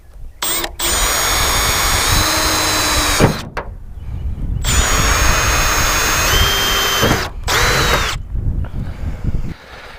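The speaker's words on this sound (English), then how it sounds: "Now we're going to come up to a much bigger drill bit and drill through right there" A power drill whines loudly at a steady high pitch through two long runs, with brief pauses and a shorter burst near the end, drilling holes for hood pins on a 1993 Mustang.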